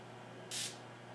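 A single short burst of makeup setting spray, a soft, quiet hiss lasting a fraction of a second in a still room.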